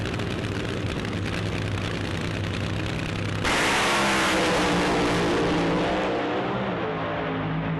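A drag racing car roars through a full-throttle run, a loud sustained engine blast that jumps sharply louder midway and stays intense, with no talk over it.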